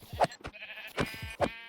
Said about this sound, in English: Sheep. Okay, they will work nicely.